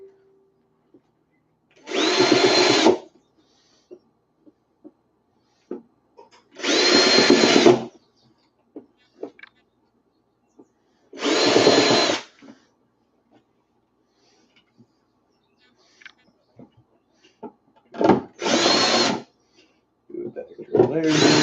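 A power drill whirs in four or five short bursts separated by quiet pauses, close by, with faint clicks between runs.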